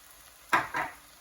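Chicken samosa filling with fresh coriander stirred in a pan on a gas stove: two quick, close scraping strokes of a spoon through the mixture, with a soft sizzle and no talking.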